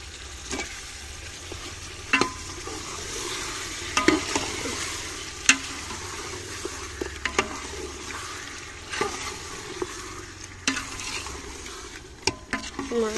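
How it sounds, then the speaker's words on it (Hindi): Steady sizzling of food frying in a pot, with occasional clanks and scrapes of stirring throughout. "गोश्त विच पा के फिर 5 या 10 मिनट तिकर अच्छी तरह भुन्नांगे"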